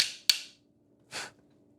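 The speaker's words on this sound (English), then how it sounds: "we're gonna use our little Santa elf hammer" A small hammer strikes the damaged barrel of a gun twice, a sharp metallic tap followed about a second later by a softer, duller knock, both close and isolated against quiet.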